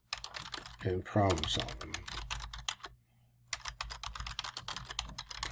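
Rapid clattering keystrokes on a computer keyboard while a resume is written in Google Docs, steady and close, running under and between a person talking.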